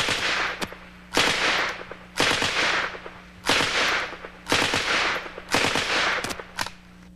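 An MP18 submachine gun in 9mm Parabellum firing about six short automatic bursts, each roughly a second long, separated by brief pauses; loud, sharp cracking reports with no speech.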